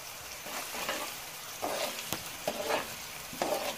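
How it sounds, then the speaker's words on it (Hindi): Sliced onions sizzle steadily in hot oil in a pan for chicken layer biryani, with a few brief bursts of louder crackle and light stirring scrapes over the constant frying hiss. "थोड़ा हम प्याज को ब्राउन करेंगे"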